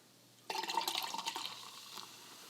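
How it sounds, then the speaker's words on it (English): Champagne poured into a glass gives a short, soft fizzing splash that starts suddenly and fades over about two seconds, quiet and close. "we need a little more champagne in this glass."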